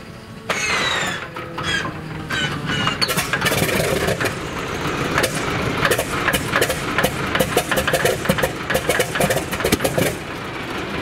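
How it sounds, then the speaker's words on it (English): The radial engine of an Antonov An-2 aircraft coughs and sputters to life, then settles into a loud, rough, uneven running rhythm close by, with no talking. "the engine start of legendary Antonov 2."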